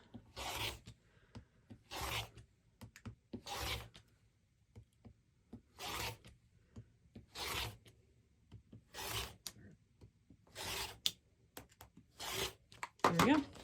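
Rotary cutter slicing background quilting fabric on a cutting mat, about a dozen rhythmic rasping strokes in regular bursts, close and fairly quiet, with no talk.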